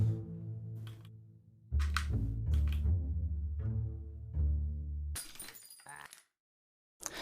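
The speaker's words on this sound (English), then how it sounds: "Oh no, the glass key broke" A glass key breaking in the video game Everhood: a bright, brittle shatter cuts in over resonant game music, with a second crisp burst of crackling glass before everything drops to silence.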